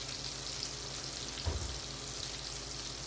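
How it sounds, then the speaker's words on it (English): Meatballs browning in a hot pan give a steady, close sizzle throughout, with a brief soft knock midway as they shift. "We're browning the meatballs."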